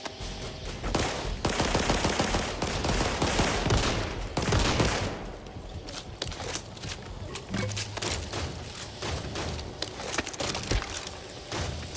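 Back 4 Blood gameplay is full of sustained automatic gunfire, a steady loud rattle of shots that thins out in the second half. Scattered impacts and game noise continue there.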